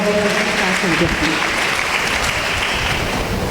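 A congregation at a prayer gathering claps together in praise of God, a loud, dense burst of applause sustained for a few seconds, with voices faintly mixed in.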